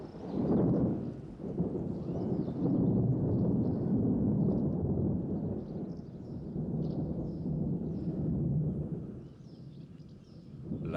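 A summer thunderstorm near the Añana salt flats brings deep, rolling rumbles of thunder. Steady rain and wind noise sit beneath them, loud and sustained with no talking.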